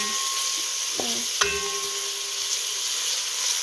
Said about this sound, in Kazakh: Уже етімізде сарымсағымызды қызара бастады.